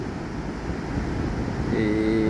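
Sea waves seen from a hotel on the coast, heard as a broad continuous wash of surf mixed with wind rumble, with a faint hum joining near the end.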